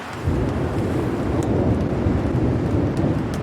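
Thunder rolls steadily through a storm in Yellowstone National Park, Wyoming, a continuous low rumble blended with the hiss of rain, fairly loud and unbroken, with no voices.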